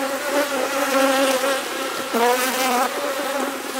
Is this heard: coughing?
no